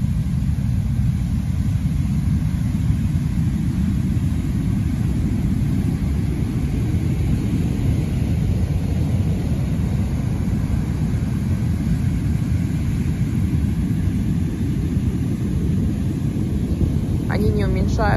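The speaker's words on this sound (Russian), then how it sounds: "Вот такие вот огромные волны." Huge storm waves crash on the Abkhazian coast, making a loud, continuous roaring rumble of surf that barely varies over the whole stretch, with no voices over it.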